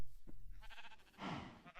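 A Minecraft sheep bleats in a short wavering call, close and clear, after a soft low thump, with no talking.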